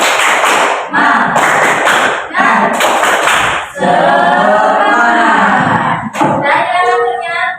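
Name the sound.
class doing the rhythmic 'tepuk semangat' clap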